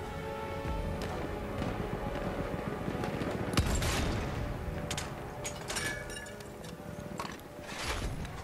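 Mortar rounds fired in Battlefield 1 on PS4: repeated sharp bursts and thuds pop at irregular intervals over a constant battlefield din, moderately loud.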